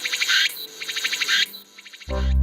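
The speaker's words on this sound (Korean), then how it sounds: "이 소리는 전남 광양 백운산의 짝을 찾아 열심히 울어제끼는 매미의 소리입니다" Cicadas calling for mates on Baegunsan mountain in Gwangyang, South Jeolla, make loud, rapidly pulsing buzzes in three bursts before a deep harmonic sound abruptly takes over at the end.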